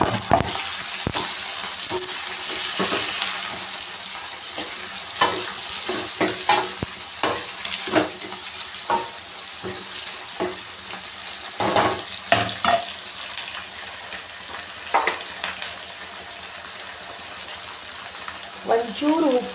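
Tomatoes frying with onion in a pan for khichdi, a continuous sizzle broken by repeated scraping stirs of a spatula, with a voice talking intermittently over the cooking.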